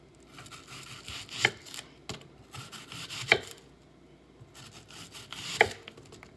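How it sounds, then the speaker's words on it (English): A knife chops an onion on a cutting board in a home kitchen, giving three separate soft thuds a couple of seconds apart with quiet rustling between them, close and fairly faint, with no talk. "Once we get the onion cut"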